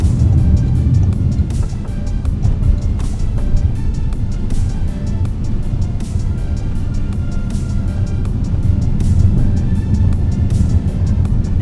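2026 Toyota RAV4 Hybrid cornering on a road, heard from inside the cabin as a steady low road and engine rumble with light wind noise, continuous and even throughout.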